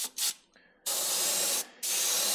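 An airbrush sprays UVLS UV protectant onto a custom-painted jerkbait, with two short puffs and then two long, loud, steady hissing bursts separated by a brief pause.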